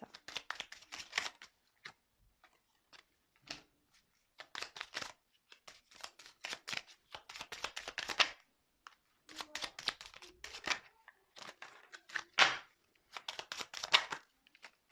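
Tarot cards shuffled by hand in repeated short bursts of papery riffling and slapping, close and fairly quiet, with brief pauses between handfuls and no talking.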